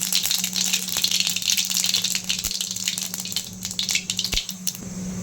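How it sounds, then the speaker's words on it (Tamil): Mustard seeds crackle and pop rapidly in hot oil while tempering for an egg pepper gravy, a dense run of sharp spits over a steady sizzle. "கடுகு பொரியட்டும்"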